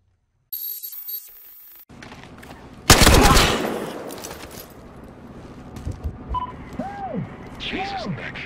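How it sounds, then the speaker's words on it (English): A sudden loud burst of gunfire in the Battlefield Hardline game erupts after a quiet stretch and then fades into a lingering rumble, with brief people talking and a couple of rising whistling tones afterward. "Nice shooting."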